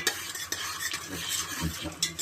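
Whole cardamom pods, cloves and a bay leaf are stirred in hot oil for egg biryani, with a steady close sizzle broken by repeated scrapes and clinks of a spoon against the pan, no talking.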